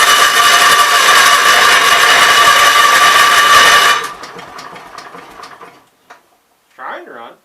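A Kohler K241 engine set at idle roars loudly and steadily, then falters and dies away into a few weak sputters and pops, followed by a brief voice.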